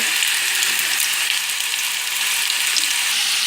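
Potatoes frying in hot oil with turmeric, black pepper, kasuri methi and garam masala, giving a steady, close, bright sizzle that runs unbroken from start to finish with no voices.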